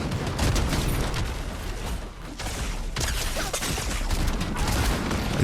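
Gunfire in a Fortnite ranked match, dense bursts of shots and booms that roll almost continuously at close range, with a brief dip in the middle before the firing resumes.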